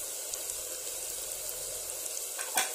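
Onions and green chillies sizzling in hot oil with turmeric powder added for a mutton curry, a steady close frying hiss with a brief stir near the end.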